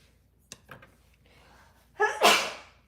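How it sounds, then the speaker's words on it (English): A big human sneeze, preceded by a couple of small sharp intake sounds and then a loud explosive burst that trails off, heard close in a quiet room. "big sneeze."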